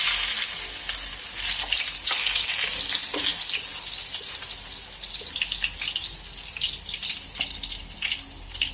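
Garlic sizzling and frying in a pan at the start of cooking pancit, a steady bright crackle held throughout with occasional stirring scrapes, close and fairly quiet.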